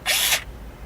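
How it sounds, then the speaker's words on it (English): A drill bores a small 1/16-inch hole over the retainer for a GM 10-cut ignition lock kit, giving one loud, high-pitched whine that lasts about a third of a second, then stops abruptly, leaving only quiet room noise. "All we're going to be drilling is a 1/16 of an inch"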